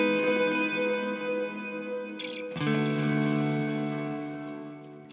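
Ambient guitar swell run through Guitar Rig 6 with high-feedback delay, a sustained harmonic tone with many repeats that briefly dips and re-swells midway, then rings on steadily and slowly fades, loud and alone.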